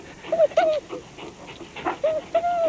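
A dog whimpers in a string of short, high, wavering whines mixed with breathy panting, close and fairly loud, in brief bursts over a few seconds with no talk.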